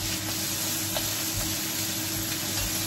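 Onions sizzle in hot frying oil in a home kitchen, a steady, close crackling hiss with occasional sharper pops and no voices.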